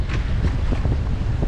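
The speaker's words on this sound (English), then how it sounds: "a bit of wind has picked up" Wind rushes and buffets the microphone aboard a sailboat under mainsail in about ten knots of breeze, a steady close roar with no talking.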